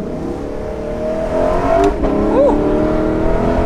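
A Lexus LC500 convertible, a rear-wheel-drive car, accelerating with a steady engine drone that swells louder partway through, heard close from inside the car, with a brief exclamation from a voice.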